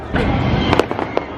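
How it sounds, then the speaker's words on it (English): Fireworks going off at Disneyland Paris at night, a string of loud sharp bangs and crackles across about a second and a half, with crowd murmur beneath. "fireworks still going off"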